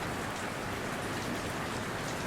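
Rain pours steadily onto hard surfaces, a dense, even hiss of countless drops pattering without pause, with no voices or other sounds.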